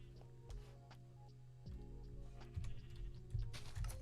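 Sheep in a block-building video game let out several short bleats over a low, steady game background, spaced irregularly and mid-distance, with faint clicks in between.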